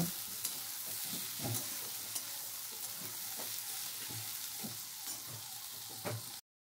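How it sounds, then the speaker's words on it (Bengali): Steady frying sizzle with repeated scraping and stirring strokes of potatoes and onions in a pan for a banana flower curry, fairly quiet and continuous, no talking. "আলু আর পেঁয়াজটা এইভাবেই একসাথে আমি ভাজতে থাকবো।"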